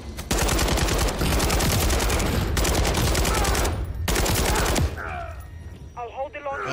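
RPK machine gun in the Call of Duty: Modern Warfare 3 campaign firing loud sustained automatic bursts that cut out briefly and resume, then stop as other game sounds and a voice follow.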